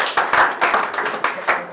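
A church congregation claps along in rhythm, with uneven bursts of hand claps repeating about every quarter second, fairly close and steady.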